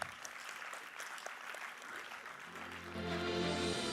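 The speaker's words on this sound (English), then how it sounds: "Please give a round of applause." An audience at a convocation ceremony gives a round of applause, fairly soft and even, before a louder tonal sound swells in near the end.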